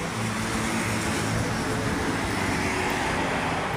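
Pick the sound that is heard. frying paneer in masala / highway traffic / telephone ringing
highway traffic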